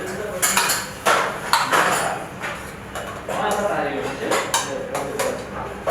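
A spoon clinks and scrapes against a metal pot while milk is slowly stirred for foxnut pudding, irregular close knocks and clatters with a voice speaking over them.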